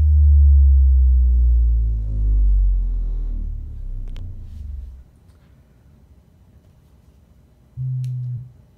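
SVS PB-16 and GoldenEar Super Sub XXL subwoofers pump loud, deep low bass that makes the room's walls and ceiling rattle, fading out around five seconds before a short, strong bass burst returns near the end.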